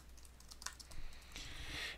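Typing on a computer keyboard while entering text into a document-style email template editor, a light patter of soft clicks that grows denser and steadier toward the end, close by with no talk.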